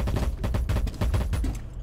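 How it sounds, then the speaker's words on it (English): Rapid gunfire aimed at a window in Rainbow Six Siege rattles out in a dense, loud burst of closely spaced shots lasting nearly two seconds. "Is he shooting the window?"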